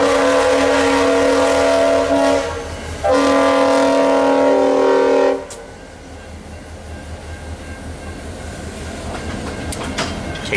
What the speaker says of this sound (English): GP40-3 2961 leads the 303 job eastbound with a killer RS5T horn